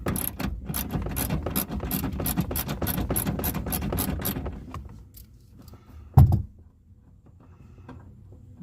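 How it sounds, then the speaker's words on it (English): A ratchet clicks rapidly and steadily for about four seconds while loosening a bolt on a Toyota Corolla rear speaker bracket, then stops, followed by a single sharp knock. "So I'm loosening the only bolt that I see so far."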